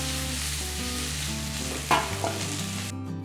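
Moringa leaves hitting a hot pan for a Tamil moringa leaf thuvaiyal, a steady loud sizzle of frying with a stir and clatter partway through before the sound cuts off abruptly.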